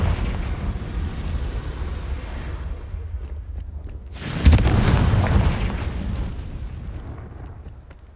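A Confringo spell explodes in the Hogwarts Legacy video game, a single loud burst partway through that rises over a steady game soundscape and then slowly fades.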